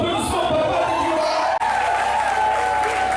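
Steady applause from a crowd at a customary ceremony honoring Papa Tetika, a continuous loud wash of clapping mixed with chatter and voices, briefly dipping midway before carrying on.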